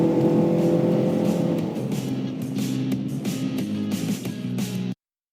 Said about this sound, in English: it still takes a little getting used to the engine revving, lack of traditional gear changes